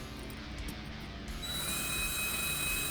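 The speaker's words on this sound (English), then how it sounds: "Every single car has to be taken apart, of course drilling out the post and preparing it to accept the screw." A small drill bores out the post on a Hot Wheels car base. A faint buzzing whir rises into a thin, steady, high whine that holds through the rest of the brief moment.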